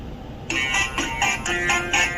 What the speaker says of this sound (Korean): 자, 이렇게 한 4가지의 벨소리가 있는데 활동 종료 안내음이 나왔죠.